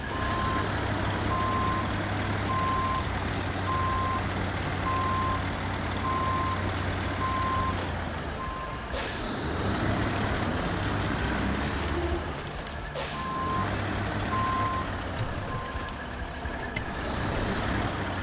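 A truck in the Snowrunner video game reverses with a regular electronic beep repeating over its low, steady engine rumble, with a short gap in the beeps midway before they resume.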